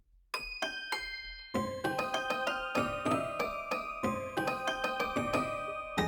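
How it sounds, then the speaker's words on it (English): Aqua Bell preset from Arturia Pigments 2 plays a sequence of clear, shimmering synthesized bell tones, struck one after another in a steady melodic rhythm with ringing overtones and bright decays, alone and fairly soft. "Let's do Aqua Bell. That's a cool bell preset."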